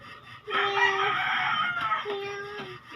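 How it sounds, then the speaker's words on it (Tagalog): A rooster crows loudly and close, one long cock-a-doodle-doo followed by the start of a second, with nothing else in the background. "Chicken."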